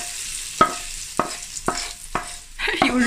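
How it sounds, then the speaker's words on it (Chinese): Small chunks of food fry in a pan in a home kitchen, a soft steady sizzle broken by several sharp, evenly spaced clicks of a utensil turning the pieces, with a louder burst of sizzling at the end. "你又再煎块了"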